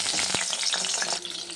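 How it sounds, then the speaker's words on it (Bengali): Eggplant fries in hot oil in a wok, giving a bright, busy sizzle with a stirring scrape near the start, close and steady over a short stretch with no talk. "বেগুনটাকে একটু ভেজে নিই।"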